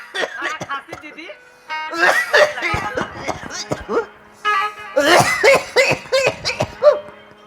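Repeated harsh coughs mixed with voices, close and loud, some bouts sounding like throat clearing and a few chuckles between them.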